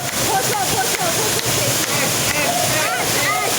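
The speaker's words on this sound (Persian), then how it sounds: "آبشار اینه؟ ببین ببین." Nozhatieh waterfall, in a village near Istanbul, roars in a loud, continuous rushing wash heard up close, with voices faintly mixed into the steady noise.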